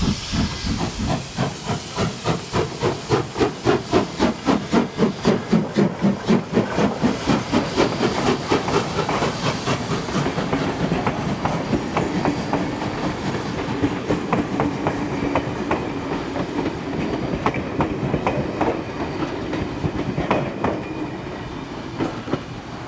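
Steam locomotive 3526 hauls a shuttle train between Thirlmere and Buxton in dismal weather, loud rhythmic exhaust chuffs beating fast and steady over constant hissing steam and rail clatter, with no talk.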